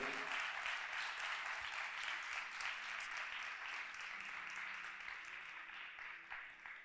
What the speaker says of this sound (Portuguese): Eu queria pedir mais uma salva de palmas para Jesus.